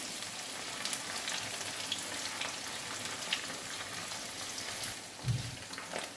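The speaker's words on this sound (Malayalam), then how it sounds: "നമ്മുടെ അയല മീൻ അച്ചാർ പരുവത്തിന് നന്നായിട്ട് മൂത്തിട്ടുണ്ട്." Mackerel fish pickle fries in a pan with a soft, continuous crackling sizzle and a brief louder pop near the end, fairly quiet and without talking.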